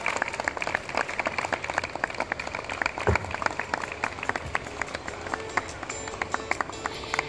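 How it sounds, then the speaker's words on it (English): Wedding guests at a resort reception applaud the couple, a steady patter of claps at moderate distance, with an emcee's voice briefly heard over it. "Let's give a big round of applause to Freddie and Sandra one more time."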